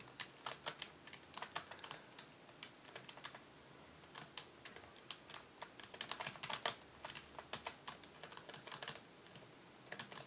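Fast, hard keystrokes hammer a computer keyboard during a Re-Volt racing match, coming in irregular bursts of rapid clicks close to the microphone.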